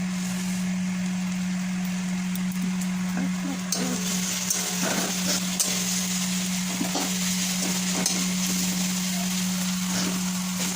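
Powder mixed with water being stirred in a pan, a steady background hiss and hum with intermittent scraping and clinking of the spoon, close and moderately loud, no speech.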